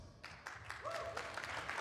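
Audience at a live panel at a gaming convention breaks into a round of applause, scattered clapping building over a couple of seconds with a whistle, fairly faint and distant.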